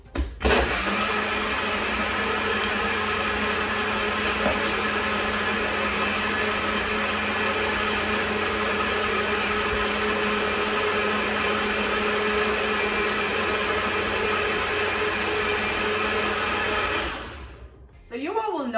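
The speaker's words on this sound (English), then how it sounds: "Notice that I zap my smoothie, you know, a few times." A blender whirs a blood pressure smoothie in one long, loud, steady high-pitched run close by, then cuts off and winds down near the end.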